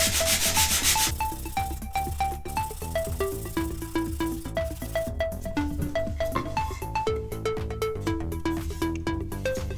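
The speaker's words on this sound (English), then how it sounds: "I'll just sand that off a bit" Wood is sanded on part of a Gamble House-inspired dining chair back during assembly, a steady rubbing scrape repeating in short, even strokes, close and fairly loud with no talking.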